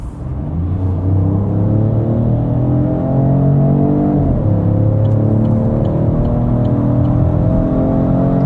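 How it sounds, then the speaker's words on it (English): Opel Mokka SUV with a 1.2 l petrol engine accelerating hard from 40 km/h, its steady loud drone rising in pitch through the run with a brief dip as it shifts gear midway. "We start at 40 kilometers an hour and accelerate it out."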